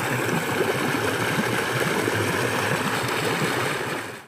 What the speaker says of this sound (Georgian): და მდინარის ხმა.